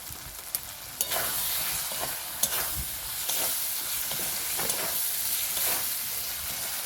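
Spices, including Kashmiri chili powder and chili powder, sizzle steadily in a pan for a rohu fish curry, with repeated scraping stir strokes cutting through the constant close frying hiss and no talking.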